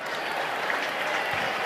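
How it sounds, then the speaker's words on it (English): A stadium crowd at an NFL game between the Bears and Browns applauds an injured player, a continuous wash of clapping heard from a distance at an even level with no talk over it. "Give him a little applause, and now he is sitting up behind there."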